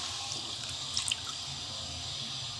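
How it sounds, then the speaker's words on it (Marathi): Water poured into simmering masala for sev bhaji, a steady close trickle and splash running through the whole moment, with a few brighter splashes near the middle. "पाणी घालून घेणार आहोत"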